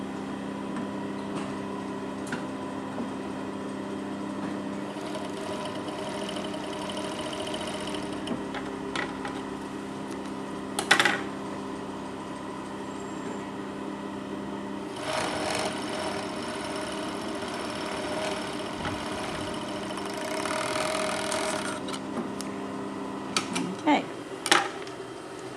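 An overlocker sewing machine stitches a fabric seam, giving a quiet, steady mechanical hum with a rapid buzzing whir and a few short louder clicks and bursts near the end.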